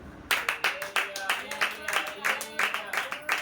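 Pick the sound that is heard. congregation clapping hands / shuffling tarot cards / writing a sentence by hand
congregation clapping hands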